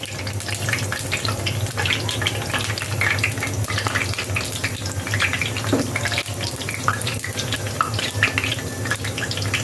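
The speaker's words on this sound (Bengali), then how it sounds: "এভাবে আমি সবগুলো ভেজে নেব।" Onion pakoras (piyaju) deep-frying in hot oil, a steady dense bubbling sizzle that runs unbroken and fairly loud, with no voices over it.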